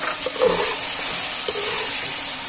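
Ginger garlic paste with cinnamon, black pepper, cloves and cumin fries in hot oil, a steady loud sizzle with occasional soft stirring scrapes.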